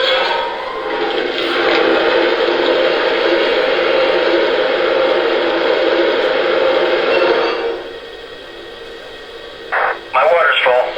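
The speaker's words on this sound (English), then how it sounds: "Alright, now the water fill." Water-fill effect from a Lionel Legacy Pennsylvania B6sb model locomotive, a steady rushing hiss held for about seven seconds and then dropping away, followed by a couple of brief clanks near the end.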